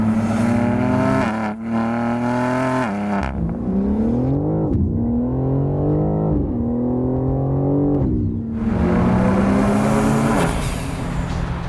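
A 2022 BMW M4 Competition pulls hard under boost, its intake and exhaust rising through the revs in loud, close sweeps, with brief lifts between gears and a final surge at the end.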